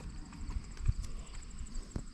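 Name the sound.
horse walking up to the fence, hooves clopping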